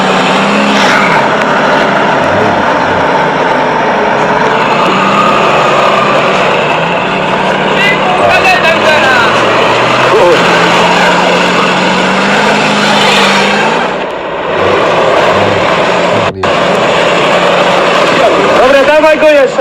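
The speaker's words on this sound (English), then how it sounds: "let's watch this Audi A8 pull this truck" Audi A8 towing a truck, its engine straining in a continuous drone with shifting revs, mixed with ambient noise and some voices.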